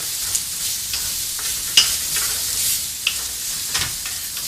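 Rehydrated morel mushrooms are stirred into a risotto cooking in a pan. Close, steady sizzling comes with a few sharp scrapes and clicks of the spoon, and no one speaks.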